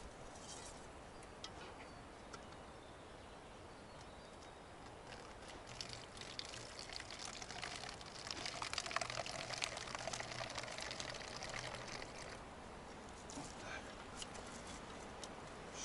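Birch sap drips from a tapped tree into a container in early spring woodland: faint, irregular soft drips and patter, with birds calling in the background.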